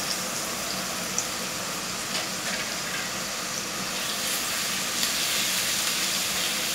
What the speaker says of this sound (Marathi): तेल तापलेलं आहे, आपण लसूण घालून घेऊया